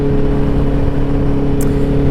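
A four-cylinder 650 motorcycle engine pulls hard under acceleration, a steady loud mid-pitched engine drone with a constant hum and no talk over it.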